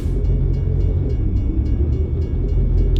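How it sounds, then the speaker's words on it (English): A train rolling past in the American Truck Simulator video game, a loud steady low rumble with faint rhythmic clacks of the wagons, heard close and without talk. "Yeah, I knew that train would be coming."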